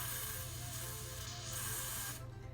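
Grease spraying from an aerosol can into a small plastic container during a Dreamcast console restoration, a steady close hiss running for about two seconds before cutting off abruptly.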